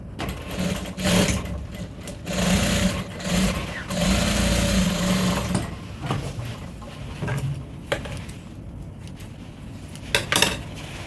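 A sewing machine sews a half-inch seam on an African print tote bag, running in several short bursts with brief pauses between them, close and moderately loud, with clattering handling noises around the stitching.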